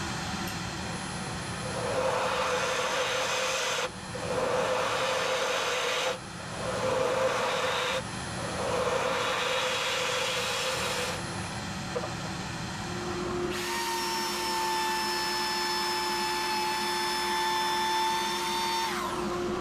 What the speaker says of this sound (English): after a little bit more sanding on that part we just turned